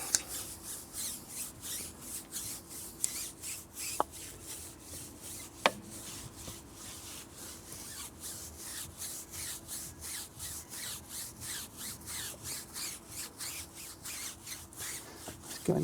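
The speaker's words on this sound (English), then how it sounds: "Let's rub it in a bit." Tyre cleaner being rubbed into a tyre by hand: steady rhythmic scrubbing strokes, roughly three to four per second, close and fairly quiet with a couple of faint knocks, no talk.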